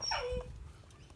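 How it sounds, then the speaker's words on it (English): A dog whines in one short, high, falling whimper that ends quickly, followed by quiet room tone with no talking. "My dog's just whining."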